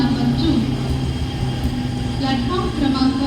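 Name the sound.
Mumbai slow local train arriving at Vikhroli station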